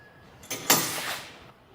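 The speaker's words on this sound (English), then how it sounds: "Can I open the door?" A camper door swung open: a sharp latch click followed by a sustained scraping, sliding rush that fades out after about a second, close to the listener with no talk over it.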